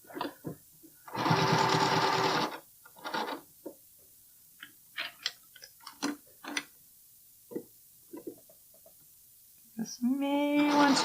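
A home sewing machine zigzag stitching folded elastic along the edge of fabric for a bralette, one loud steady burst of whirring, then clicks and handling noises, then a second run of stitching at the end.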